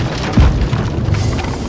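A heavy boom lands early, followed by rumbling low thuds and game-like ambience, like cannon fire on a ship, in the video game Blackwake.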